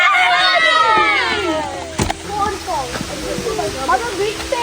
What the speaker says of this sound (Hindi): पानी की आवाज़ बड़ी सूदिंग है